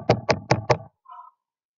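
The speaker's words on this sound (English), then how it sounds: "knock, knock. It was a door again." Four sharp, evenly spaced knocks on a door, loud and close, followed by a short, faint tonal sound before silence.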